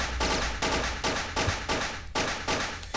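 Rapid gunfire in the video game Boxhead: loud, dense bursts of shots repeat in a steady rhythm, each bunch broken by brief gaps, and there is no speech.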